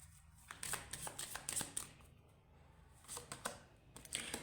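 Tarot cards are handled and shuffled for a reading, giving quick, soft papery riffles and flicks in uneven bursts, close and fairly quiet, with no talk.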